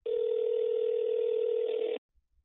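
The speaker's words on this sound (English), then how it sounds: "Now a call is being placed to my phone." A steady telephone dial tone sounds loud and unbroken for about two seconds as a call is placed to a phone, then cuts off abruptly into near silence.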